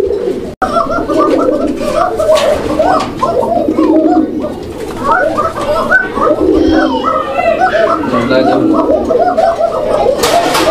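Koka pigeons coo together in a loft, a dense chorus of throaty, bubbling coos with wing flutters, fairly loud and near, continuing under some background voices.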